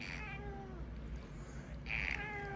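A kitty named Alexander Hamilton meows twice at close range, a drawn-out cry at the start and another near the end, over a quiet room with no talk.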